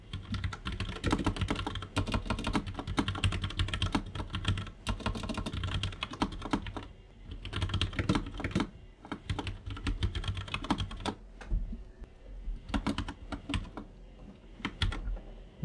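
Fast, steady typing on a computer keyboard while writing Unity code, keys clicking in dense bursts with brief pauses between them, close and clear, with no voices.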